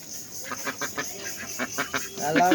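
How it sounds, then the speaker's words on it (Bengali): A Chinese duck quacking in a quick series of short, nasal calls, fairly close, with some farmyard background and brief voice-like sounds toward the end. "আমাদের একটি চীনা হাঁস"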